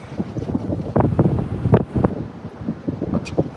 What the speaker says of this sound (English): The wind is really whipping this morning.